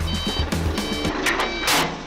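A truck reversing to couple with a trailer in Jamaica, its backup alarm beeping in short evenly spaced tones over a loud rumbling engine, close by.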